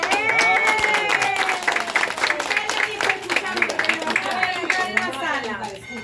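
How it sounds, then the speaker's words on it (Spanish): Applause from a crowd at a municipal anniversary gathering, a moderately loud burst of clapping mixed with cheering and excited voices, with shouting and chatter running throughout. "¡Un aplauso!"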